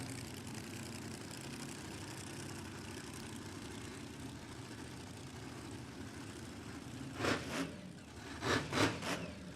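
A supercharged 408-cubic-inch Chevy LS in a rear-engine dragster idles at a drag strip in Queensland, Australia, a steady low rumble that holds throughout, with two brief louder bursts near the end.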